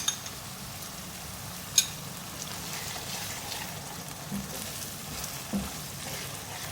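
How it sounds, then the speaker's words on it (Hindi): Brain (maghaz) masala is sautéed in oil with yogurt, giving a low, even sizzle with occasional light clicks and taps from the stirring spoon, and no voices. "3 टेबल स्पून दही डाल के इसकी भुनाई करूँगी।"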